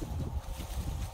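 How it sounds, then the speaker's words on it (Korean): Low, steady rumble of spring wind buffeting the microphone outdoors, continuous and fairly close, with no voices. "바람 소리."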